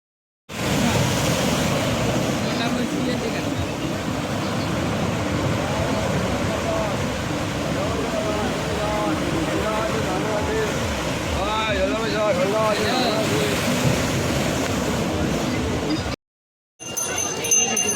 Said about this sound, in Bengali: রাত্রিরের দীঘা, আমরা দীঘায় সি বিচে ঘুরতে এসেছি।